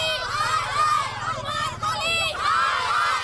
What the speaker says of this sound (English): Women social activists were waiting outside the Bigg Boss house and shouted slogans against the actor